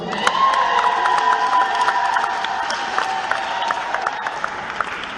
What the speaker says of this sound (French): Si vous êtes d'accord avec moi, poussez les acclamations